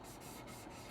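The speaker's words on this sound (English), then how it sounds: "we come in with this, a nice fine sanding stick, but it's sponge" A fine sponge sanding stick rubs over a 1/48 scale Airfix BAe Hawk T1 Red Arrows plastic model kit in steady back-and-forth strokes, soft and close, with a quiet continuous hiss.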